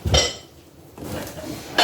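Pyrex glass baking dishes knocking together as they are handled, with two brief clinks separated by a quieter stretch of shuffling.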